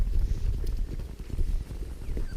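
Horse hooves clip-clopping on the ground during training, a close, uneven series of dull thuds in a steady walking rhythm.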